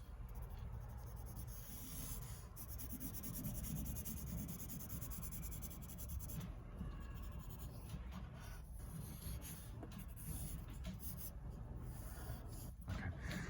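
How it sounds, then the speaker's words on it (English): Pencil scratching on paper while a cross section is drawn, a quiet continuous rubbing and scraping of close strokes with brief pauses, faint and close up. "So now I'm drawing a convincing cross section through the body of this."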